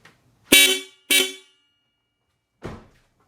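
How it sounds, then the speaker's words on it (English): A newly installed car horn on a Lexus IS300 sounds three times: two loud, close blasts in quick succession, then a shorter, fainter toot after a pause. "to test out whether the horn works or not, we get into the car."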